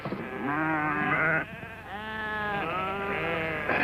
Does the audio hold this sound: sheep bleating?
yes